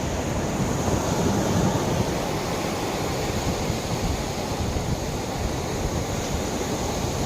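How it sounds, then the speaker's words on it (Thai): Ocean surf rolls steadily onto Na Jomtien beach, a continuous wash of waves with wind in the background, no talking. "ฟังเสียงคลื่นอู้"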